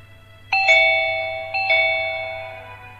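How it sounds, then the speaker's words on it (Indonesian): A house doorbell pressed once at the front door gives two bright, ringing chime tones about a second apart, each fading slowly, loud and alone over a faint low hum. "dan menekan bel"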